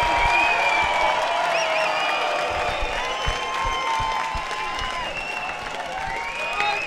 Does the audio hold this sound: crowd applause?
yes